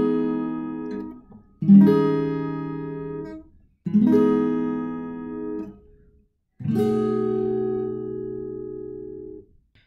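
Strummed guitar chords for the song, four chords played one after another, each ringing out and decaying before the next, alone with no voices.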